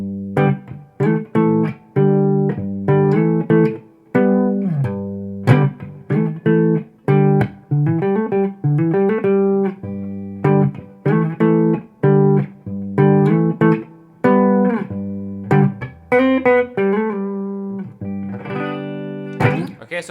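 D'Angelico semi-hollow electric guitar playing major chord embellishments in G, a steady stream of plucked chords and quick melodic fills, clean and close with slight effects, no talk.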